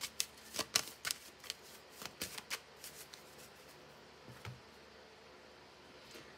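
Tarot cards being shuffled by hand for a reading, giving a close flurry of crisp flicks and riffling clicks that thins out to a few faint taps and quiet rustles.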